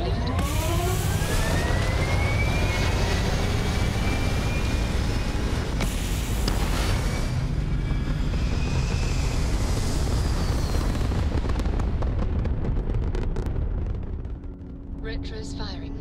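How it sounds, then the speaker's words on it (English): A rocket lifts off in the video game Starfield with a sustained, loud, roaring rumble that holds steady for a long stretch before dropping away, with a voice speaking over it. "We have liftoff."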